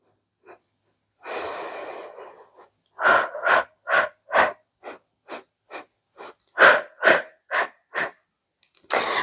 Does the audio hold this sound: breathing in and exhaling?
yes